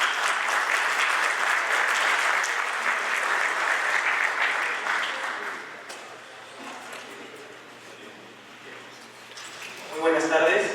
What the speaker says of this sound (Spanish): lo recibimos calurosamente con un fuerte aplauso